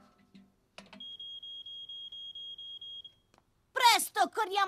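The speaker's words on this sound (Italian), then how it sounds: "nel caso fosse scattato l'allarme" A home smoke alarm sounds during a fire drill, a single loud steady high-pitched beep held for about two seconds after a brief clatter, followed by a child's excited speech.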